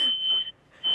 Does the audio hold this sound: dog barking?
no